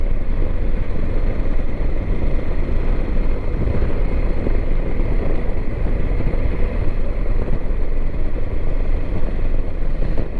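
A 33-year-old Honda Transalp motorcycle with its original monoshock rides along in the evening, giving a steady, loud engine and road rumble mixed with wind buffeting at the microphone, continuous and with no speech.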